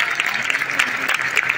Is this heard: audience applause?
yes